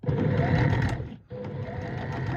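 A sewing machine runs a straight stitch through trouser fabric, a loud, close, steady mechanical whir that pauses briefly for a moment and then resumes, with no talking.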